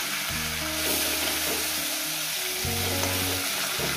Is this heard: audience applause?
no